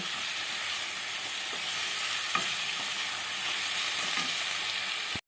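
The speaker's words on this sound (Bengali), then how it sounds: "সেইভাবে ভালো করে নাড়িয়ে চাড়িয়ে নিতে হবে আর একটু কষিয়ে নেব" Spice masala for a tangra fish curry sizzles steadily in hot oil as it is stir-fried, a constant close hiss with faint stirring taps before an abrupt stop.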